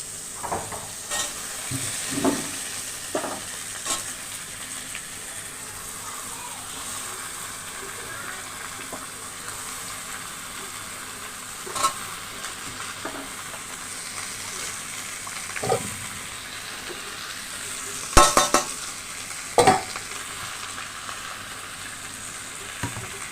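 Potatoes fry in a pan with a steady, even sizzle, broken by occasional sharp clinks and scrapes of stirring.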